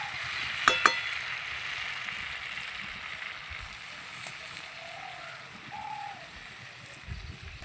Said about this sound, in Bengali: এই দেখুন এবার জল দিয়ে দিচ্ছি